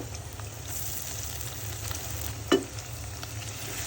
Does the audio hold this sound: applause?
no